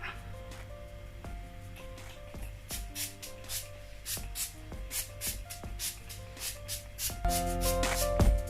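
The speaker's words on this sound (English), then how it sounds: "I'm going to be spraying this NYX finishing spray" NYX matte finishing spray is misted over a made-up face in a series of short, soft hissing bursts, close and quiet, separated by brief pauses.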